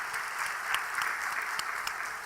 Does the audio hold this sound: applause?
yes